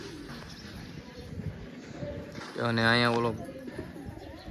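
Pigeons coo in a short throaty burst at close range, set against outdoor background noise, while someone talks casually over and around the calls.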